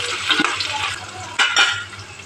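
Onion, green chili and curry leaves fry in hot oil. A close, crackling sizzle is broken by a couple of sharp stirring scrapes against the pan.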